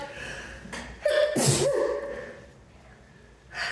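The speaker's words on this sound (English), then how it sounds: "Confirmation sneeze." A single sharp human sneeze, close and fairly loud, with a quick breathy intake before the burst and a short trailing exhale, set against a quiet room with no talking.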